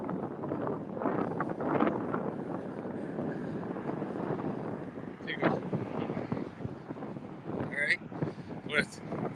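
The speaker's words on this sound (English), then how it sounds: "It's windy." Wind gusts roar and buffet a microphone during an outdoor walk in Key West, steady and loud throughout, with a few brief higher-pitched sounds near the end.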